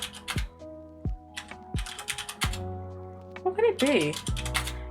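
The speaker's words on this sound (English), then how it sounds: "I'm just typing in other random words." Typing on a computer keyboard while playing a word-guessing game, a few separate clacking keystroke bursts with pauses between them, a voice speaking over them.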